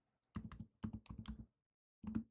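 Close computer keyboard typing a terminal command: three quick bursts of crisp key clicks separated by short pauses, in a quiet room.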